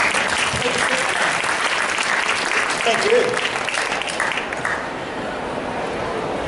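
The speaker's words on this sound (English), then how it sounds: "Give him a round of applause." Audience applause at a hypnosis talk during a wellness expo, sustained crowd clapping that tapers off partway through while a voice speaks briefly over it.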